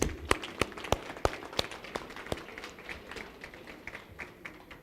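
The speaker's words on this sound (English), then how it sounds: "Can you clap for the service providers?" A small audience at a government labour event claps for service providers, with a few sharp claps at first giving way to softer, scattered applause in a roomy space.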